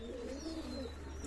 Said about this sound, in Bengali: অসংখ্য সুন্দর সুন্দর কবুতর আছে ভাইয়ের কাছে কালেকশন করা।